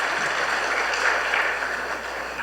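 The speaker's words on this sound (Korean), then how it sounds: "말씀 듣고 왔으니까 박수로 환영해 주시겠습니다." A church congregation claps to welcome new members during a Sunday service, a thick, even wash of applause that holds steady for a couple of seconds and stays loud throughout.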